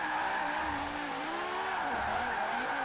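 A V10-swapped BMW Z4 drifts in Forza Horizon 4, its engine note wavering up and down over a continuous high tire squeal, loud and close, with no voices.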